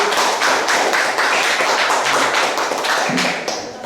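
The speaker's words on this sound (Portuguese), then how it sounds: "Uma salva de palmas, Senhor." A church congregation breaks into sustained, loud clapping right after a prayer, a dense wash of many hands applauding together for several seconds before tapering off slightly at the end.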